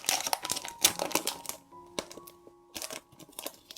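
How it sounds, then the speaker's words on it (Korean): Plastic film crinkling and tearing while a pocket world map, a free gift packed with a book, is unwrapped, with irregular bursts of crackling handling noise close to the mic. "비닐 소리가 좀 시끄럽지만"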